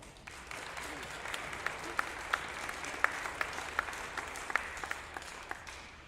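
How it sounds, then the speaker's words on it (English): Audience applause at a high school orchestra concert, steady moderate clapping from a hall crowd with a few sharper individual claps standing out, fading toward the end. "Let's go ahead and give a round of applause."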